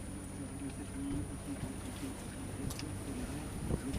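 A sailboat's inboard engine runs at 2000 rpm while motoring on a sea crossing from Corsica to the mainland, giving a low, steady droning hum under faint wash and wind, with muffled voices nearby.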